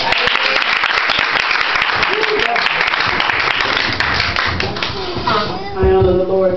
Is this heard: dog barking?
no